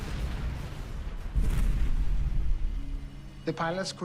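A loud explosion from a reenacted airliner crash, a Boeing 737 with no engines in a thunderstorm over the gulf, bursts in and rumbles on heavily, then a voice speaks near the end.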